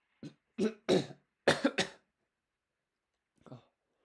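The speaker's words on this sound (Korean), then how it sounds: "기침하면 엄청 시끄럽겠네." A series of sharp coughs, about five in quick succession, then a pause and one more fainter cough, close and loud with no talking.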